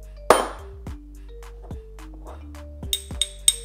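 A metal 3D printed arc reactor part gives a sharp clunk, followed by several lighter knocks and ringing clinks of metal on a hard surface, close and alone.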